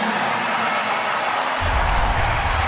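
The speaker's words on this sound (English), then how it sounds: "It's a raucous Ryan Center crowd." A raucous home crowd at the Ryan Center roars and applauds during a college basketball game after a Rhode Island run ties the score, a dense, continuous wash of cheering that swells louder partway through.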